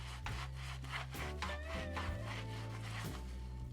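A finger scrubs along a dirty Apple power cable, giving close, continuous rubbing and squeaking with a low, steady hum underneath.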